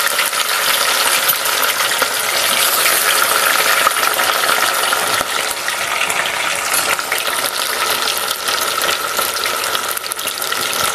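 Fish pieces frying in very hot oil in a pan for a village-style fish curry, a steady dense sizzle and crackle that stays loud and constant throughout with no talking.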